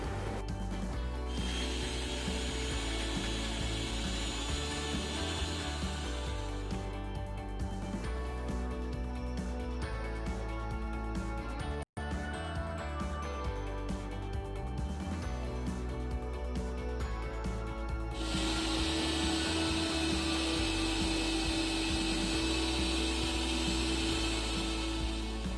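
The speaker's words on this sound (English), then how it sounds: "Let's grind everything into a smooth paste and by adding vinegar." A kitchen grinder blends garlic, red chili powder, salt and vinegar into a chutney paste, a steady whirring drone that runs for the whole stretch with slight shifts in pitch and a short break near the middle.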